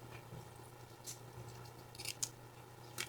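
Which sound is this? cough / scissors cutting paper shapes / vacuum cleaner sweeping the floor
scissors cutting paper shapes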